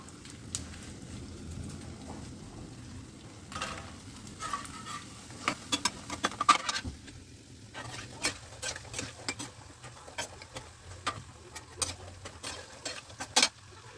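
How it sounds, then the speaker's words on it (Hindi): Makhana (fox nuts) frying in a pan with soft, irregular patter and crackle, faint and close, with occasional light clicks and scrapes of stirring. "तो अब हो रहे हैं हमारे मखाने फ्राई"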